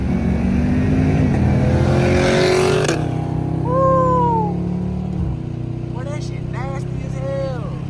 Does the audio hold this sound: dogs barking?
no